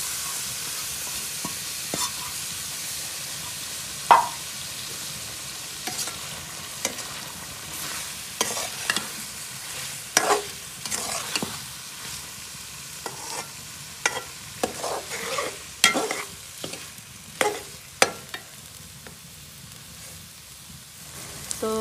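Frying and stirring in a pan for a desi-style bongra karahi: a close, steady sizzle broken by irregular scraping and clattering stirring strokes.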